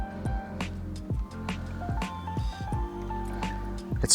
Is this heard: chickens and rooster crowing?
no